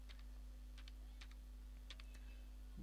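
Keys clatter on a computer keyboard as a web address is typed, with small clusters of quiet, close clicks over a steady electrical hum.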